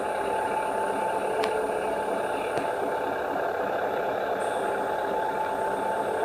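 Truck engine in Farming Simulator 20 runs steadily and loudly throughout, with a short air-brake hiss near the middle and a high tone joining late.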